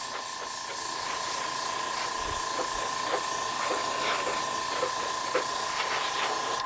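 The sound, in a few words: airbrush blowing air to dry alcohol inks on canvas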